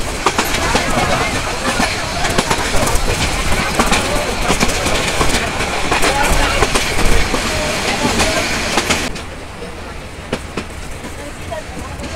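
Mohanagar Provati Express running from Dhaka to Chittagong past Ashuganj railway station in light rain, a steady loud rumble and rattle of the moving carriages with faint clickety-clack, easing somewhat near the end.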